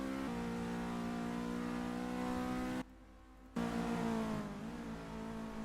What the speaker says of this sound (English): We see the Gaggles Motorsport car following the SGPE car